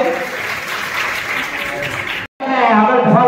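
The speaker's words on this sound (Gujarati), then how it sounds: "જોરદાર તાળીઓ પાડીએ" An audience at a World Tribal Day celebration in a community hall claps loudly for the event's chief guest, a thick, sustained wash of crowd applause with a momentary dropout before it resumes, full and close.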